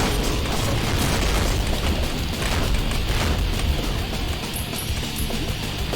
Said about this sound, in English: All these explosions and you didn't crash.